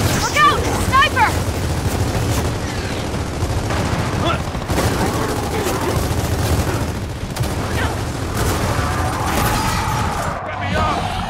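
Game gunfire from Gears of War 4 crackles and booms in dense, continuous volleys through a chaotic battle, with shouted voices mixed in throughout.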